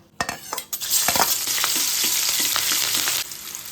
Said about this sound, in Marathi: आता याच्यात आपण मिरच्या तळून घेऊया